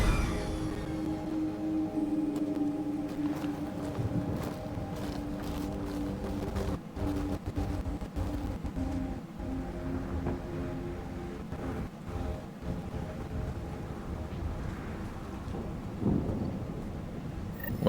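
A thunderstorm rumbles on the radioactive planet Eos in the game Mass Effect: Andromeda, with a steady low roar of wind and rain broken by several sharp thunder cracks and a heavier rumble near the end.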